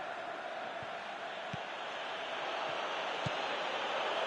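A stadium crowd in a PS4 football video game roars as a steady, broad wash of cheering that swells slightly, with a few faint thumps underneath.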